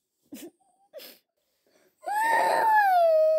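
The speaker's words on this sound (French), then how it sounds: "découvre une malheureuse marmotte qui pleure à chaudes larmes" A cartoon marmot cries with a few short sobbing sniffles, then breaks into a loud, sustained wailing cry that wavers and falls in pitch, heard alone and close.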